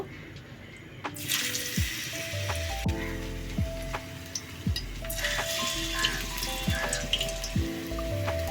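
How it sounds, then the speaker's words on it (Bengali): Banana stem fritters are dropped one by one into hot white oil in a frying pan, setting off a steady crackling sizzle like rain on a surface that persists under background music. "এবারে আমি বড়ার শেপ দিয়ে একে একে ফ্রাই প্যানটার মধ্যে ছেড়ে দেব।"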